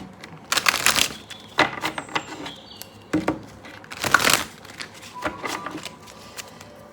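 Tarot cards shuffled by hand during a pick-a-card reading, giving repeated crisp riffling bursts and papery slaps in quick rhythmic clusters, close and fairly loud, with brief pauses between shuffles and no talking.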